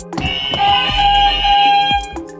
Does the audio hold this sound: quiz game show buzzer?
yes